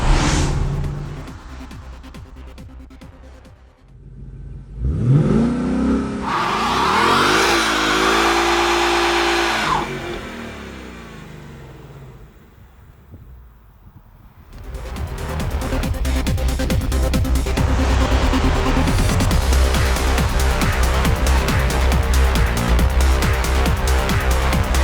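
A 2016 Ford Mustang GT 5.0 V8 fastback revs hard for a burnout on new tyres, the engine climbing in loud bursts, dipping briefly, then roaring steadily with a broad, rough rush.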